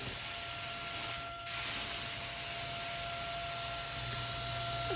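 A spray gun lays factory white solid base coat, mixed one to one with slow reducer, onto a truck during a home paint job. The hiss is steady and close, with one brief break in the spray.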